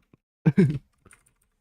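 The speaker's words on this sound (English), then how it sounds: "I keep clicking enter." A computer keyboard is typed on, with a quick burst of a few clicks followed by a couple of faint isolated key presses against a quiet background.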